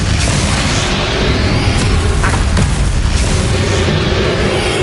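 Explosive spell blasts in the Hogwarts Legacy video game roar as a dense, loud, unbroken wash of booming noise with crackling bursts layered on top.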